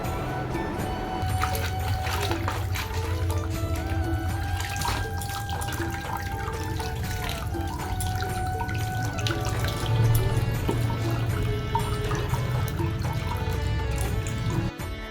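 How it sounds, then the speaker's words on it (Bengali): Leafy greens are washed under a running kitchen tap, water streaming steadily into the sink with splashing and dripping throughout, close and continuous, with no talk. "এখনো শাকটা কিন্তু ধোয়া হয়নি, চলো শাকটা এবার ধুয়ে নেব।"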